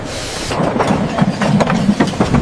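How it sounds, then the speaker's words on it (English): A steam train departs, rolling along the rails with a steady low rumble and a regular run of clattering wheel clicks, moderately loud and without voices. "The train whistled and moved forward."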